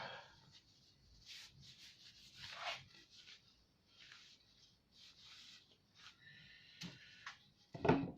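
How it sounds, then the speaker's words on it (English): A wooden kitchen utensil rack being wiped down by hand, giving soft intermittent rubbing and brushing strokes at close range, ending in a louder scrape or knock. "I'll give it a wipe"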